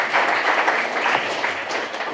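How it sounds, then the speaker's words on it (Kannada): An audience applauds at a felicitation ceremony for a young man selected as an Agniveer army recruit. The clapping is steady and dense throughout a brief burst, with no voices over it. "ಜೋರಾದ ಚಪ್ಪಾಳೆ ತಟ್ಟುವುದರ ಮೂಲಕ ಆತನ ಅಭಿನಂದಿಸೋಣ"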